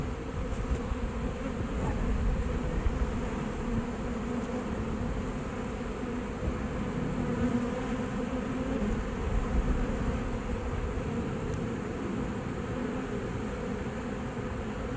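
A dense, steady drone of many honeybees swarming around a Langstroth hive during a cutout removal from a boat, loud and close throughout with no talking.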